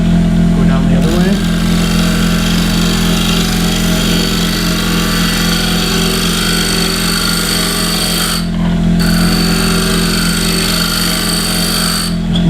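A wood lathe spins while an Easy Wood Tools carbide cutter shaves fine curls from the turning wood, giving a loud, constant motor drone that dips briefly twice, with someone talking over it.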